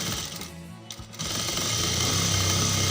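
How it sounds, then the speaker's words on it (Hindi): Sewing machine stitching over elastic on a trouser waistband, a steady mechanical whirr that starts after a brief pause and runs loud and continuous to the end. "तो अब हम इलास्टिक के ऊपर सिलाई लगा रहे हैं।"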